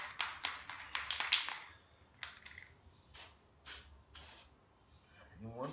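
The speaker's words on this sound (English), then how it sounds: "it's better to spray twice rather than spray once" Oil sprayed onto a Harley Davidson Screaming Eagle air filter in a rapid series of short aerosol hisses, followed by several longer sprays, close and fairly quiet with a voice talking between them.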